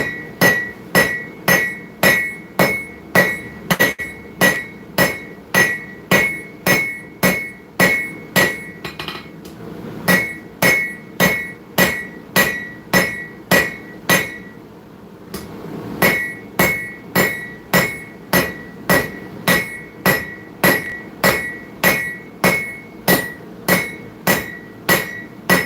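Hot metal is forged on an anvil with steady, ringing hammer blows about once a second, loud and close. A short pause breaks the rhythm before the strikes resume, with no talking.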